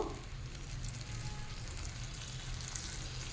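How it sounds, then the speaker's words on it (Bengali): Shrimp curry with kulfi greens boiling hard over a high flame: a steady, dense bubbling sizzle that holds at an even level throughout, close by, with no talking. "অলরেডি ফোটা শুরু হয়ে গেছে, খুব ভালো মতো ফুটে গেছে।"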